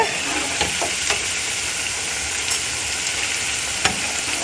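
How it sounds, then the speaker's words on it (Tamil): Onion vadas deep-frying in hot oil, a dense continuous sizzle and bubbling with a few soft clicks of a slotted spoon, close and steady. "இப்போ உள்ளி வடையெல்லாம் நல்லா வெந்து வந்தாச்சு"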